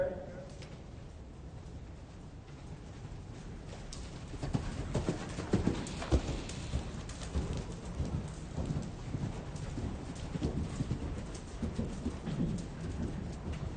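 Young horses canter during a riding clinic, their hoofbeats thudding in a steady rhythm at close to moderate range, with an instructor's voice talking over them.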